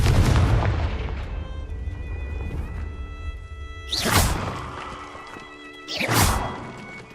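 Confringo fire spell in Hogwarts Legacy, heard as a deep booming blast at the start followed by two more sharp explosive bursts spaced a couple of seconds apart, loud and close under a low rumbling backdrop.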